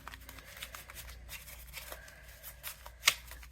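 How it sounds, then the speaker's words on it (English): Playing cards are shuffled by hand in a quiet room, soft riffling and sliding with a sharper snap near the end, close and fairly faint, as cards are mixed for a savings challenge game. "Let's shuffle these up again."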